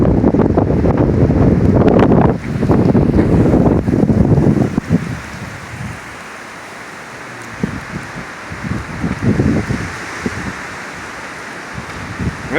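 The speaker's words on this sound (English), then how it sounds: "Probably a 60 mile an hour wind gust over there across the lake right there." Gusts of 50 to 60 mph roar across a lake campsite at Allatoona Lake, buffeting the microphone loudly in bursts, easing briefly, then surging again without any talk.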